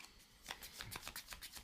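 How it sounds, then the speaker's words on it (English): Playing cards being shuffled back into a deck during a board game, a quick close riffle of several soft papery flicks and snaps over about a second and a half. "That gets shuffled back into the residence deck."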